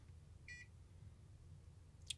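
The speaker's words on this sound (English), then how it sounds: "I'll put the buzzer on for you." A multimeter in continuity mode, probing with alligator clips, gives two short, faint electronic beeps spaced well apart over a low steady hum.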